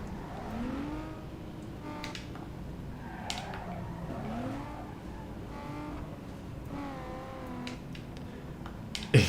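A Toyota Supra engine in Need for Speed Underground 2 drones steadily, its pitch climbing and falling as the car revs and shifts, with a few sharp clicks near the end.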